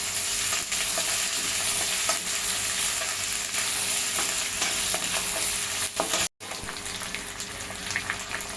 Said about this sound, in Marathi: त्यामध्ये मिरची, आलं आणि लसूण हे टाकून छान परतून घेऊया